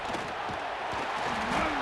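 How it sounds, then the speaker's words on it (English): A home crowd in College Football 26 cheers at a Florida vs LSU game, a loud, continuous roar with a rising shout near the end. "this home crowd is fired up and ready to make a difference today"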